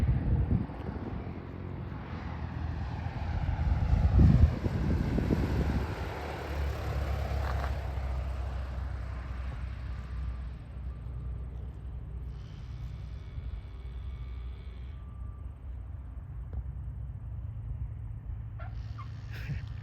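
An airplane comes in to land at an aircraft graveyard, its engine roar rumbling steadily and swelling then fading as it passes close overhead, with continuous broadband noise and no talk.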